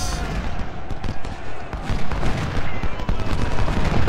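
Dense, continuous musket and cannon fire from a Civil War battle in Ultimate General: Civil War, loud rolling volleys and booms overlapping with no break.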